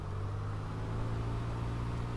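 A steady, low propeller-engine drone from a simulated Piper PA-38 Tomahawk light aircraft during an engine run-up at 1800 RPM with brakes set, humming evenly at constant speed throughout, with no talking.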